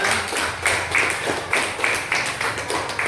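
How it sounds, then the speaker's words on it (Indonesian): Children clapping together in a classroom: a steady run of quick, rhythmic claps, close and fairly loud, with no talking. "tepuk tangan dulu kalau menyenangkan ya"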